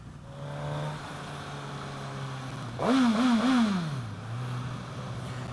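A 2016 Suzuki GSX-S1000 with its stock exhaust idles with a low steady hum, then revs up in a wavering, throaty surge before settling back down, heard up close.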